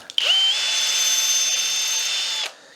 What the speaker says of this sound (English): stick the dowels in the drill